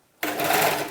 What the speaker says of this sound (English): let's put our machine back to center because we're sewing in the ditch.